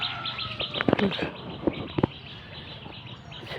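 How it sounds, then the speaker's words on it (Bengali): Birds chirp and call outdoors, several short sharp notes over a steady background hum, with faint voices in the distance. "পাখি ডাকাডাকি"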